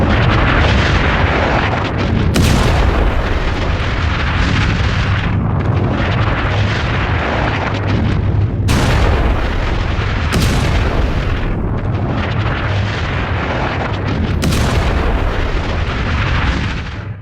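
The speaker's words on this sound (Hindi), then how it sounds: "ईरान चारों तरफ मिसाइल दाग रहा है, चाहे वो इजराइल हो या फिर दूसरे मुस्लिम देश।" Missile strike explosions from an Iranian attack on a US airbase in Iraq, heard as continuous loud, dense booming and rumbling with several sharp bursts, no voices.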